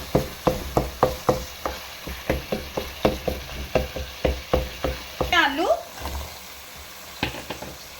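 Masala for aloo gobi roasts in a pan while a spoon strikes and scrapes it in a fast, regular rhythm of close knocks over a soft sizzle, with a brief squeaky scrape midway.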